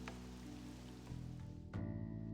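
Rain falls steadily in the Persona 5 Royal video game, a soft even patter layered under tonal game music and effects, quiet and continuous with no talk.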